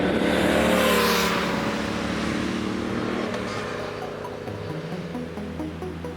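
A Speed Twin motorcycle engine roars loudly while riding up Lookout Mountain, Colorado, in snowy weather, with wind rush and a steady rumbling drone that gradually eases.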